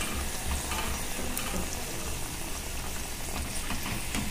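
Sweet pumpkin puris fry in hot oil with a loud, continuous, dense sizzle and bubbling that never lets up, with no talking.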